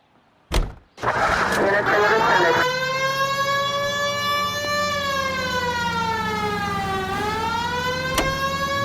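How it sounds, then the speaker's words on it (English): A loud police car siren in the video game L.A. Noire wails continuously, its pitch sweeping up and down in long cycles, with engine noise beneath and a brief thump at the start. "We have a siren."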